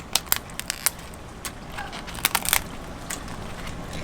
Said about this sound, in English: I'm gonna break off these legs first